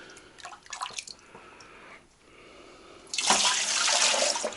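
Water poured from a ladle into a pot of borscht dressing: faint scattered drips and trickles, a brief pause, then a louder, steadier splashing pour filling the pot.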